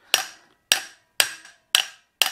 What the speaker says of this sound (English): I probably need a bigger hammer for this.